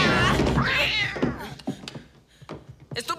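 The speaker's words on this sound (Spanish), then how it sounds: "¡Estúpido gato!" A cat in a Halloween film scene gives a loud, close, drawn-out wavering meow, followed by scattered thumps and short voice sounds.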